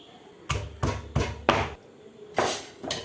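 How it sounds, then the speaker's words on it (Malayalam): Small onions crushed in a small uruli vessel, six firm, evenly spaced thuds that pound close and loud with no talking. "നമുക്ക് ചെറിയ ഉരുളിയിലിട്ട് ഒന്ന് ചതച്ചെടുക്കാം"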